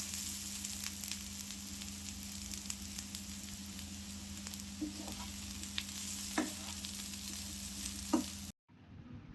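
Potatoes fry in a pan with spice powder, giving a steady close sizzle with a few scraping stirs near the end before the sound abruptly cuts away.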